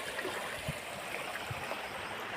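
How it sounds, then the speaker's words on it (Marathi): Floodwater after a cloudburst rushes steadily through a soybean field, a continuous broad, hissing wash with faint gurgles and low thumps, close and unbroken for the whole stretch. "पाणी वाहत आहे"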